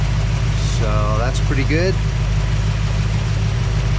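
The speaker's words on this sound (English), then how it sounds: "you can hear the engine revving up a little bit" A car engine idles steadily and loud, a low mid-pitched drone with a slight rise in revs, while coolant is burped from the radiator; someone talks briefly over it.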